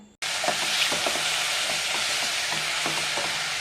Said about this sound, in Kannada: ಈಗ ಒಂದ್ಸರಿ ಹಾಗೆ ಚೆನ್ನಾಗಿ ಮೊಗ್ಚೋಣ.